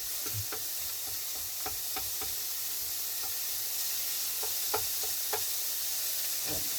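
Minced meat frying in a pan as it is broken up, a steady hiss of sizzling with scattered scrapes and taps from a utensil, close and moderately loud.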